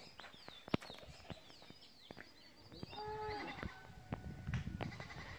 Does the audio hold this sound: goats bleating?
yes